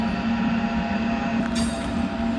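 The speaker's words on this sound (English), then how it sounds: "I think I hear a train coming." A train passes near an abandoned Arctic town in Sweden, a steady rumbling roar with a strong low hum and faint metallic overtones, continuous and fairly close.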